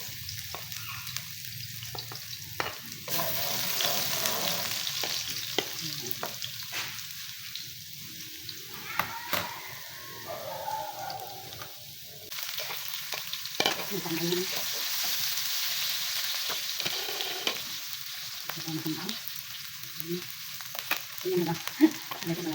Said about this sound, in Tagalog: magigisa na tayo mga kabiday. Ito, una natin yung sibuyas.